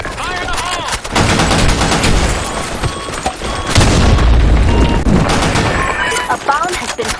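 Grenade blasts and dense gunfire in a Counter-Strike match, loud and continuous, with heavy booms around the middle over rapid shots and voices calling out in the mix.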